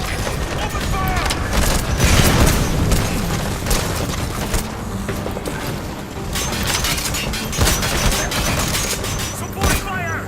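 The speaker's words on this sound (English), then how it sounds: "Extract him. Open fire!" Dense, continuous gunfire and booming blasts from a battle in the video game Metal Gear Solid V: The Phantom Pain, loud throughout with crashes layered over it and voices calling out amid the chaos.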